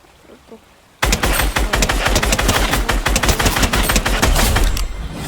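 Rapid small-weapon gunfire in the Fortnite video game bursts in after a second of near silence, then keeps up a dense, loud, continuous stream of shots to the end.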